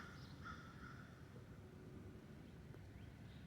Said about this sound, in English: some common grackle. That's what kind of bird that was.